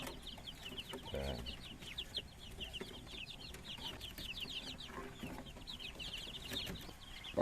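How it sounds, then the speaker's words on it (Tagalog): Three mother hens clucking on a backyard poultry farm, soft repeated clucks in loose irregular bursts, fairly faint with a brief thump early on. "3 inahin to."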